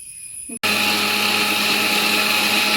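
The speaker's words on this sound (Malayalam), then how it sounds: "ഇത് നമുക്ക് കുറച്ച് മല്ലിപ്പൊടിയും കുറച്ച് മഞ്ഞൾപ്പൊടിയും ഇട്ടിട്ട് നമ്മൾ നൈസായിട്ട് അരച്ചെടുക്കാം" A mixer grinder grinds grated coconut with coriander and turmeric powder, switching on suddenly after a short low hum and continuing as a loud, even, high-pitched whine.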